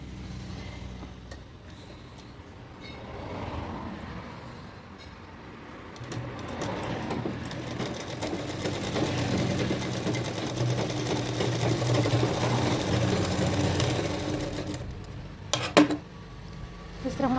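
An electric sewing machine runs a seam on a ghagra skirt, a steady, fairly quiet rapid whir that starts and swells, runs continuously for several seconds, then stops with a few clinks near the end.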